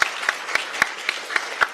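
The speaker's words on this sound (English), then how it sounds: "So this team that you see, please give them a warm hand clap." A team being introduced at a Makerere University Business School student showcase gets a round of hand claps: sharp, evenly spaced claps about every quarter second, close and fairly loud over a faint room murmur, with no talking.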